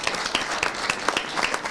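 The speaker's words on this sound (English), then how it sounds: "I think we should give them a round of applause." Applause from a seated audience at a state board of education meeting, a brief burst of steady clapping heard nearby without talk.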